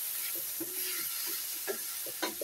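Bitter gourd (ampalaya) being stirred in a frying pan, with a steady sizzle and hiss broken by soft scraping and clinking strokes of the spoon.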